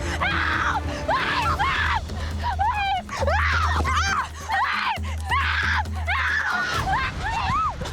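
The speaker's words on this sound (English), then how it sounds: "the girls shriek and scream" Three young women alone on a river shriek and scream in repeated, piercing, wavering bursts, loud and close over a steady low drone.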